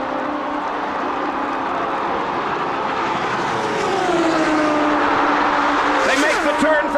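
IndyCar race cars at speed on the last lap of the 1992 Indianapolis 500, a steady loud engine roar with a rising and falling pitch sweep as cars pass, a commentator talking over it throughout.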